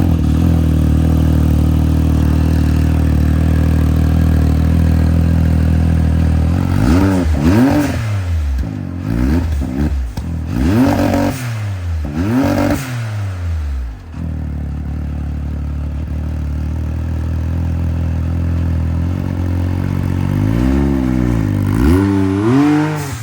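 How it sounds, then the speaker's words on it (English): An engine fitted with a Vibrant muffler exhaust starts and idles with a deep, loud burble, then revs up in several sharp bursts, settles, and revs again near the end, with no talking. "go ahead and fire it up, Mike."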